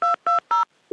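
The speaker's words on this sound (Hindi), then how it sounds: "मैं कॉल ट्रांसफर कर रहा हूँ।" Three quick, loud telephone dialing tones as a call is transferred, evenly spaced beeps followed by a brief click, with no talking.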